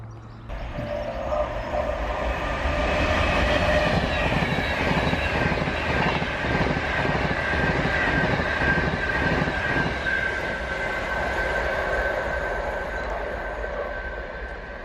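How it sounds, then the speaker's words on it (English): A train runs past a platform at a UK station between Rugby and Nuneaton, a steady loud rumble of wheels on rail with rhythmic clicking over joints and a high squeal, lasting throughout. "the train stops right up the far end of the platform"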